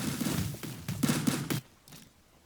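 Bursts of gunfire and mortar blasts from the strategy video game War Selection, a cluster of rapid shots and booms fading into a quieter tail.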